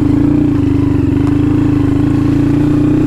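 Honda Grom motorcycle engine drones steadily and loud while riding off-road through grass and mud, a constant low rumble with rapid firing pulses and no talk.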